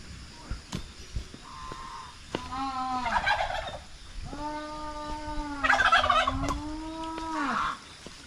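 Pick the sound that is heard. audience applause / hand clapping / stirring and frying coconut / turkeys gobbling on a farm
turkeys gobbling on a farm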